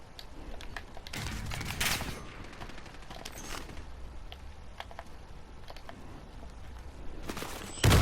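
Bursts of automatic gunfire from a first-person shooter firefight with soldiers, several rapid volleys over a steady battle din, ending in a loud close burst.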